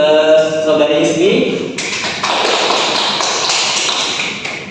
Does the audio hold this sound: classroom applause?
yes